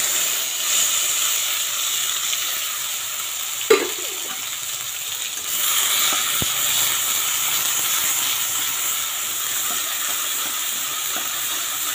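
Coriander leaf paste frying with nigella seeds in hot oil, giving a steady broad sizzle throughout with a brief clatter of stirring partway.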